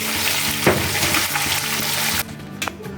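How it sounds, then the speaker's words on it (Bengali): Loud, dense sizzling of salted tilapia frying in hot oil, cutting off abruptly near the end with a faint clink after. "খুব সুন্দর মাছটা ভাজা হয়েছে"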